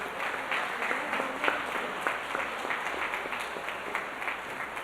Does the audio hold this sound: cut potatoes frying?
no